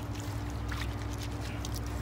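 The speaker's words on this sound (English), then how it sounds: "You wash it, you know, you add your water and you wash it just like you'd wash anything else." Irish sea moss being washed by hand in water, sloshing and splashing close by over a steady low hum.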